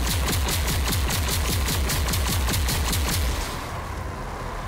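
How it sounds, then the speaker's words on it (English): Charged pulse cannon firing in overdrive in the shooter Rage 2, a rapid, loud stream of evenly spaced heavy energy blasts that carries on for over three seconds before cutting off into a fading rumble. "Use the charged pulse cannon's overdrive against the simulated enemies."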